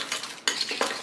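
A spoon stirs a thick sauce of ketchup and brown sugar in a pan, making close, wet scraping strokes in a few uneven bursts.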